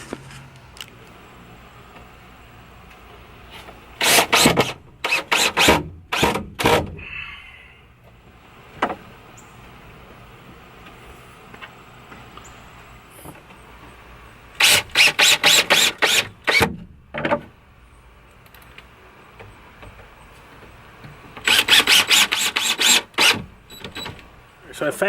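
A power driver runs screws into the table slide of a Ford Transit van camper conversion, coming in three clusters of short, loud whirring bursts separated by quieter stretches of shuffling and handling.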